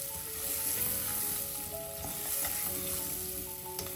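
Ivy gourd sizzles steadily in oil over a low flame, a soft continuous frying hiss with faint crackles and no voices.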